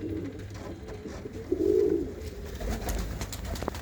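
Pigeons coo nearby, one soft, low throaty coo standing out briefly in the middle over a murmuring background of faint shuffling and noise.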